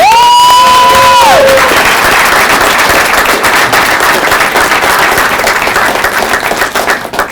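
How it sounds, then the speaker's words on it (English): A room full of masterclass attendees breaks into loud applause and cheering, a dense sustained roar of clapping with a brief whistle-like tone at the start. "Big round of applause."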